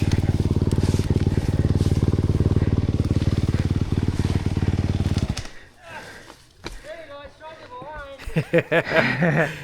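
An enduro motorcycle at a hard enduro race idles and revs loudly and steadily up close, then cuts out, leaving scattered clatter and voices talking.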